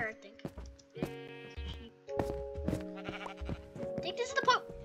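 Sheep bleating in the video game Minecraft, several wavering bleats repeating in turns with short pauses, mixed with game sounds and a player talking.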